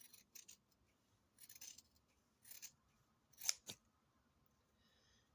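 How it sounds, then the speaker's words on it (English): Scissors snip through scrap fabric in a few short, crisp cuts, close and quiet, with soft rustling of cloth between the blade closures. "just cut this so you can see"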